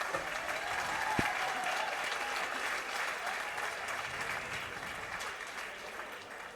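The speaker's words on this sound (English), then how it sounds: "let's give both fighters a big round of applause." Crowd at a boxing event applauding both fighters after the final round, a sustained, fairly distant wash of clapping and cheering that holds steady, then slowly fades.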